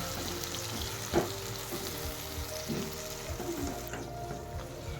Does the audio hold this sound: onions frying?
yes